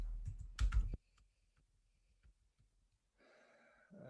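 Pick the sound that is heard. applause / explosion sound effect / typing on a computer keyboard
typing on a computer keyboard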